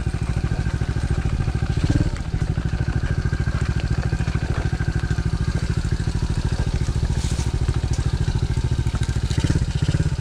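A DB14 dirt bike engine runs steadily close by, a dense buzzing pulse with slight swells in throttle and no clear pauses, mostly alone without talk.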